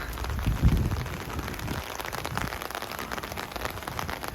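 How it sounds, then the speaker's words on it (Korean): Steady rain falls outside a roofed shopping area in Canada, a dense, even hiss of drops with a soft low thump near the start and no voices. "오늘은 비가 와서"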